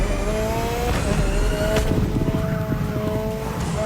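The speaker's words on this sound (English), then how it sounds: "this MX-5, it's just the same car but with drift physics" Mazda MX-5 drift car in The Crew Motorfest, its engine droning steadily with tonal revving harmonics that rise and fall, plus a brief sharp burst near the middle, loud and close with no talk.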